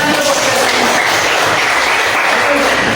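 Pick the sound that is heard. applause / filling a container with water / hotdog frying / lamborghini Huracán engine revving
applause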